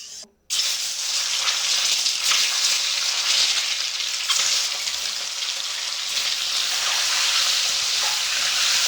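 Eggs hit hot oil in a wok after a brief quiet moment, and a loud, dense sizzle and crackle bursts up at once and continues strongly and evenly throughout.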